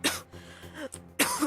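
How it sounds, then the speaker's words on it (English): Two harsh bursts of coughing, one at the start and another near the end, with quieter throaty sounds in between. "I'm at the point where I'm just annoyed at the coughing now"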